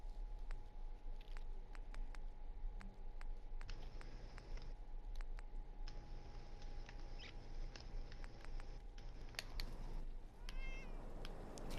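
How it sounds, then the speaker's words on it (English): A cat meows in the video game Fallout 4, a brief call rising near the end over a steady low in-game ambience with scattered clicks and soft tapping. "I just heard a cat."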